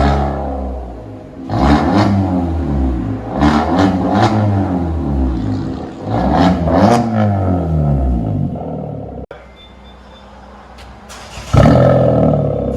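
Loud, raw straight-pipe exhaust roar from a nearby 2013 Kia Forte with a 5-inch tip as the engine is revved repeatedly, then it settles to a rough idle before another burst.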